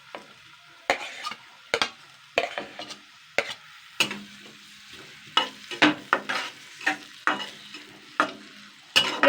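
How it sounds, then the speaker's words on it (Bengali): Chopped onions deep frying in hot oil in a wok hiss and crackle up close, while a spatula scrapes and stirs in regular sharp bursts roughly every second; nobody speaks. "এবার আমি কুচানো পেঁয়াজগুলো দিয়ে দিচ্ছি। এটাকে কিন্তু একটুখানি ডিপ ফ্রাই করে ভাজতে হবে।"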